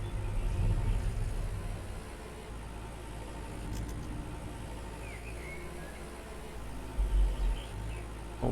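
Tractor engine in the logging game Lumber Jack's Dynasty, a steady low rumbling drone with slight revving swells, continuous and moderately loud.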